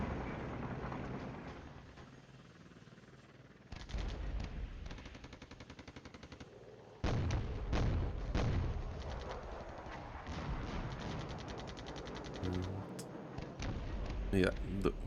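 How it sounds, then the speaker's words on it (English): Gunfire and explosions from Wargame FC battle gameplay with NVA BMP-1 infantry advancing: bursts of shots and heavy booms come and go, with voices talking over parts of it. "first couple of shots have been fired here"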